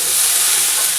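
Cauliflower and potatoes frying in a pan with little oil, a loud steady sizzle with a bright hiss and no voices.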